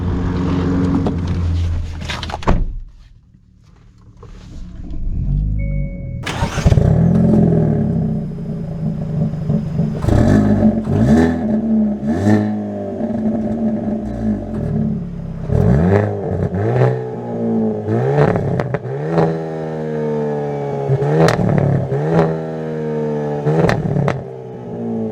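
A Hyundai Elantra N pulls away and accelerates hard, the engine rising through repeated revving climbs with sharp gear shifts between them, loud and close throughout after a quiet moment near the start.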